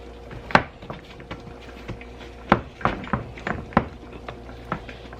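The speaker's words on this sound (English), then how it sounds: "I'm going to work this dough out so it'll fit into the pan" Bread dough for sandwich loaves is worked and pressed out on a wooden board, giving irregular soft thumps and knocks, a few sharper taps among quieter handling noises, close by with no talking.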